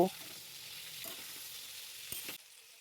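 Jujubes frying in a pan with salt and a little turmeric give a steady, soft sizzle throughout, with a few faint stirring scrapes and a brief louder clatter near the end before the frying quiets.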